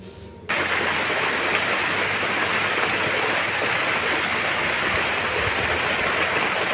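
Steady rain falls outdoors in a dense, even hiss, beginning abruptly and continuing unbroken at moderate loudness with no voices.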